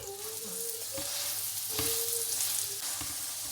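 Aloo paratha frying in ghee on a hot pan, giving a steady close sizzle with soft crackling pops throughout and no talk.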